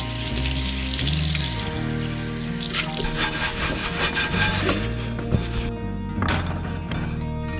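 A Field Company No. 6 cast iron skillet gets scrubbed clean, a steady close rasping rub running continuously with water splashing and running in a sink throughout.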